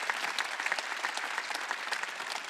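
A congregation claps during a Wednesday church service, steady rapid applause from many hands filling the hall, close and sustained without pause.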